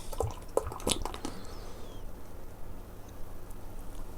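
Hitachino Nest Espresso Stout beer pours into a glass, a close, soft liquid trickle with a few drips and splashes near the start, then a steady quiet foaming wash with no talking.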